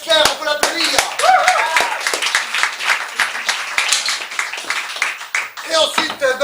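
A small group claps in scattered, uneven bursts, with children's voices calling and chattering over the applause throughout.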